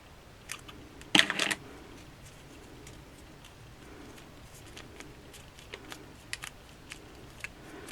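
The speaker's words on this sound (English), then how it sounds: "My petal didn't cut properly, so I will just cut this edge." Scissors snip the edge of a paper rose petal, with one sharp close cut followed by faint, scattered small snips and paper rustles in a quiet room.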